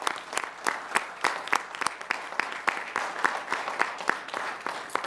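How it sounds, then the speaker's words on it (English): At a village board meeting, a modest group claps for a retiring employee honored for 27 years of service, individual hand claps standing out in a steady, moderately sparse round lasting about five seconds. "I think that deserves a round of applause."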